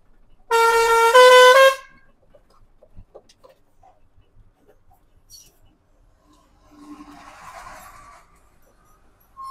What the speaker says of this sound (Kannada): ನಮ್ಮ ಗಾಡಿ ಮ್ಯೂಸಿಕ್ ಕಾರನ್